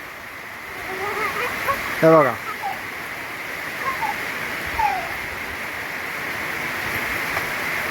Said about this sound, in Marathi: बघा असा पाऊस आलाय.